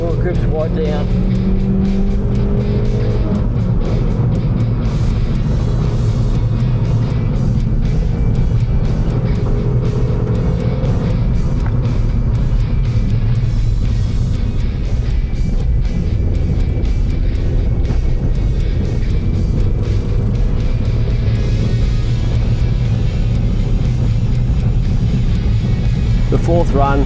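Hillclimb car on a run up Mount Cooperabung at an NSW Hillclimb Championship round, engine droning loud and close throughout with shifting pitch as it climbs, under a steady layer of talk.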